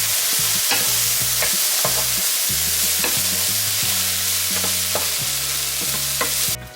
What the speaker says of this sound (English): and give this a good stir.